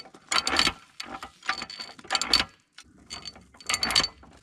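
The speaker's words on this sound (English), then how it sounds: "You work the billows by pumping the handle up and down, and that turns this flywheel, which runs a fan and blows air into the coals." Hand-pumped forge blower with a flywheel and fan, its grease frozen, giving quiet, uneven bursts of rattling, grinding mechanical clicks as the handle is worked, heard close with no talk.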